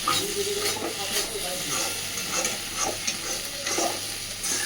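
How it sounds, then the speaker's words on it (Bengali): Arum stems and egg frying in a wok, a continuous moderate sizzle and hiss with repeated scraping strokes of stirring, heard up close and steady throughout, with no talking. "ডিমটাও খুব সুন্দরভাবে ওলে ডাটার সাথে ভাজা হয়ে গেছে"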